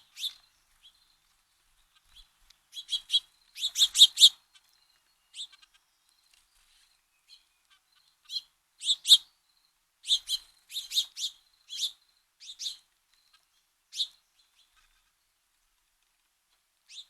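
House finch calls from birds at arborvitae bushes beside a deck during fledgling feeding: bursts of sharp high chirps and twitters, clustered in irregular groups with quiet gaps, close and clear.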